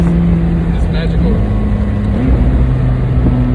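Engine and exhaust of a McLaren 600LT Spider, a loud, close, droning tone that shifts pitch as the revs change, with someone talking over it.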